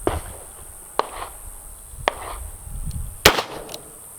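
Three sharp, loud reports from a .38 Special revolver firing Hornady 110 grain rounds into ballistic gel, spaced about a second apart, with a louder fourth crack near the end, outdoors with faint background noise.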